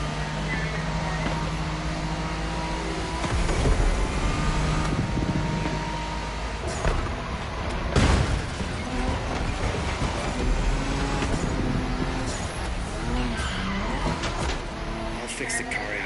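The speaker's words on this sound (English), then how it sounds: "A Nissan GTR with an insane body kit." A body-kitted Nissan GT-R in The Crew Motorfest drones steadily through a race, engine hum with shifting pitch under continuous talk.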